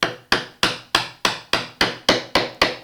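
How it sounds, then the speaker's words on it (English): Chisel driven by mallet into a wood baseline while cutting a lapped dovetail for a Shaker table: nine sharp, evenly spaced strikes, each with a short decaying ring, close and loud with no talking. "we can probably put our chisel into the baseline and finish this side off"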